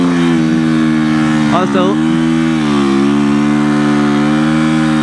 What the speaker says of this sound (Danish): Og så prøver vi lige at lave en brænder her.